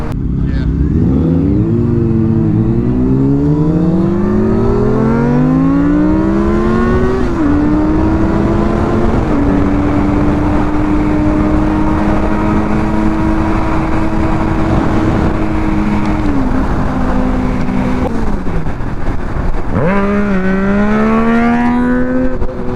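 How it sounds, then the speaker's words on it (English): Motorcycles ride together on a spring road while their exhausts rise and fall through long revving sweeps, then hold steady, loud and close, with a sharp rev-up near the end. "We got that synchronization going on right now though with the exhaust."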